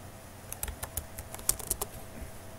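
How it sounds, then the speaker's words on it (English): Keys clack on a computer keyboard in a quick, irregular burst of close, fairly quiet taps, with no talking. "Let's type it in."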